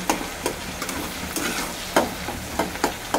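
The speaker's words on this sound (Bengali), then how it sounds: "আলু সেদ্ধ হতে হতে আমি এখানে মশলাটা কষিয়ে নেব।" Spice paste cooks in a pan with onions, a steady hiss of frying broken by regular scraping strokes of a spoon stirring every half second or so, close and moderately loud with no voices.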